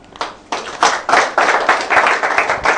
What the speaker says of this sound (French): Je vous prie d'applaudir